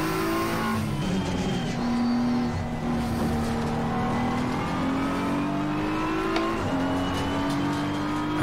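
Race car engine in Assetto Corsa Competizione, v1.8.5, holding a steady loud drone through a lap, pitch rising and falling with gear changes and a brief shift near the end, no talking.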